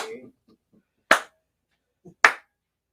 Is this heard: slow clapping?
yes